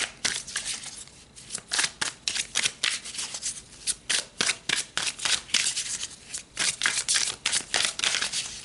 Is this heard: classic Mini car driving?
no